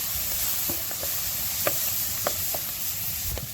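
A dry ground spice paste with turmeric sautés in a pan for a spicy dry eggplant dish, giving a steady close sizzle with a few light clicks and scrapes of stirring.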